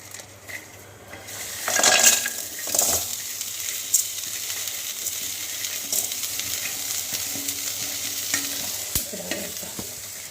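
Garlic, ginger and onion with salt fry in a pan over toasted tamarind and pepper, a loud steady sizzle with clanking spoon stirs and scrapes against the metal pan, no talk.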